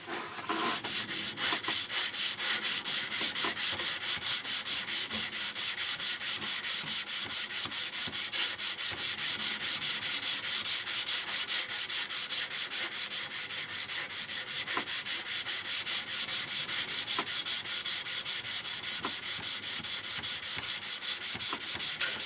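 A steel knife blade being hand polished with lubricated abrasive for a hand rubbed finish, steady rapid back-and-forth rubbing strokes in a close, even, continuous scratchy rhythm.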